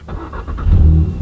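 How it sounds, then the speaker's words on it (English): A manual-transmission car is started with a push-button start while the clutch is held down; the engine catches and settles into a loud, close, steady low rumble. "hit the start button while the clutch is down"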